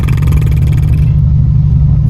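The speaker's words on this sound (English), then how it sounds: "it's a more manageable exhaust tone than it was before" Loud car exhaust fitted with a Spania high-flow adjustable catalytic converter, a deep steady droning rumble close to the microphone, heavy and continuous with no voices.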